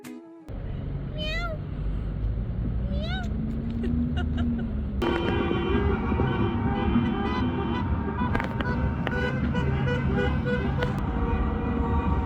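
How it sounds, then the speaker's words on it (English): Car horns honk from a wedding convoy driving through Dades Gorge, Morocco: several toots and a long blare over steady road and engine noise, moderately close, with a few short high calls scattered through. "the couple and their families drive through the valley, honking loudly all the way"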